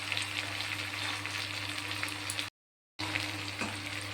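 Soaked chickpeas fry in a spice paste, giving a steady close sizzle with light stirring scrapes and a brief break of silence partway through.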